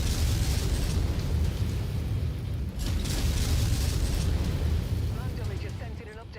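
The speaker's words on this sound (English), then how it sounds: "I'm gonna fire one missile just to poke him to see if I can... Oh, I can hit him. Yeah. All right, full barrage." A full missile barrage in MechWarrior 5 thunders as a continuous roll of overlapping explosions and deep rumbling booms, loud and close, fading slightly toward the end.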